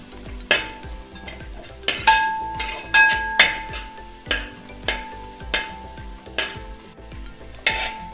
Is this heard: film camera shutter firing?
no